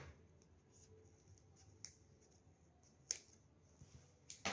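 Scissors snip off excess zipper on a square crochet bag made with nautical cord, giving a few sharp, quiet, separate cuts against a soft background.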